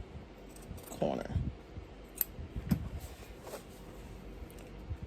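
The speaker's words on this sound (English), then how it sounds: "we're going to snip our corners, making sure that we're not snipping the thread" Scissors make a few quick snips at the corners of a sewn fabric face mask, close and fairly faint against soft room noise, with a voice talking nearby.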